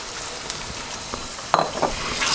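Packet cream goes into mango halwa in a pan and is stirred through, giving a soft steady sizzle with scraping clicks of the spoon near the end.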